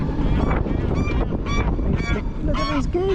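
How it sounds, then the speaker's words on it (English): Several geese honk repeatedly outdoors on a sunny day, loud and close, their calls coming in rapid bursts over steady wind noise. "Look at these geese! How cool is that?"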